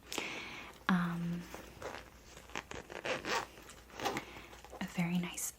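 Zipper being opened and closed on a small Snoopy bag with a keychain, in a soft-spoken ASMR haul: quick close rasping pulls amid handling rustles, with whispered talk running throughout.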